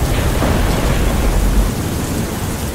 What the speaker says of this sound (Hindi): इस बारिश को अब रुक जाना चाहिए।